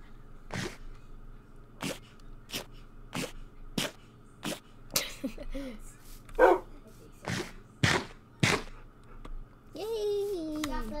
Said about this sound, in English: We got the dogs. We got so many puppies.